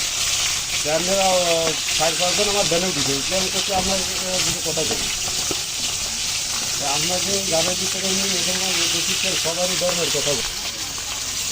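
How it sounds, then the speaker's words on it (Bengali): Loud, steady sizzling of grass carp frying in hot oil in a karahi fills the clip, with a voice speaking over it. "আর বাকিগুলো কড়াইতে দিয়ে দিয়েছি, আবার এগুলো ভেজে নিচ্ছি।"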